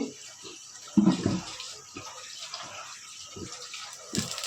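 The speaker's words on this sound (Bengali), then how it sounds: "এখন আমি বটবটিগুলো ধুয়ে নিতেছি ভালো করে।" Broad beans are washed by hand in water in a kitchen, with soft sloshing, splashes and dripping. A louder splash comes near the start, then quieter rinsing.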